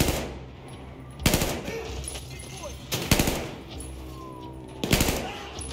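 Gunfire in the Battlefield 4 Baku prologue mission: three sharp, loud bursts of automatic fire spaced a couple of seconds apart over a low rumbling battlefield ambience, with faint distant shots between.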